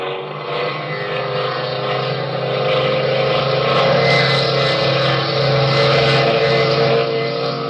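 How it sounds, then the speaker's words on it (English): Two airplanes dive steeply toward the ground at night as a radio drama effect, a loud continuous engine roar with a droning propeller-like buzz that holds steady and swells slightly throughout. "Two planes screaming through the darkness toward the ground."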